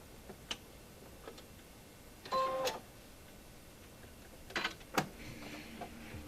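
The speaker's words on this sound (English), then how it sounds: "I sew the next patch" A sewing machine stitching a quilt patch, giving short bursts of quick mechanical whirring and ticking separated by quiet pauses, close and fairly soft.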